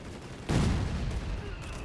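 A .30 cal machine gun rattles in Company of Heroes 3, a sudden sustained burst of rapid fire erupting and continuing loud, with a voice faintly underneath.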